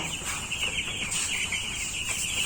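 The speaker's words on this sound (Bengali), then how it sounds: "এখন দশটি মুরগি ধরবো আমরা" Seven-day-old broiler chickens clucking together on a poultry farm, a dense, continuous chorus of soft peeps and clucks heard close up.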